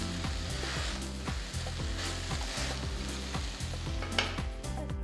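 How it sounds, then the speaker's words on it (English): Fried eggplant slices stir-fried in sauce over a high flame, making a continuous close sizzle with scraping stirs, above a steady patterned low background drone. "Stir fry on high flame for just about 30 to 40 seconds."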